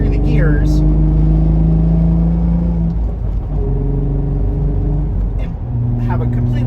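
A car engine drops down through the gears, its steady rumble shifting pitch in distinct steps with short gaps at each change, loud and close from inside the cabin, under someone talking.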